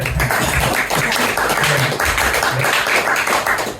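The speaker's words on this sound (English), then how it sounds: "Where's my round of applause?" Comedy club audience at a live stand-up night in Leeds breaks into dense, steady applause, many hands clapping close and loud throughout without a pause.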